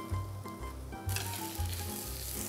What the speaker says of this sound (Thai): ใส่น้ำมันมะกอกลงในกระทะครับใส่กระเทียม